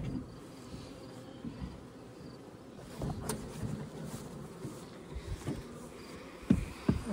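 Bees hum around a crowded beehive entrance during a mid-season hive split, a steady low insect drone with a few brief louder passes close by.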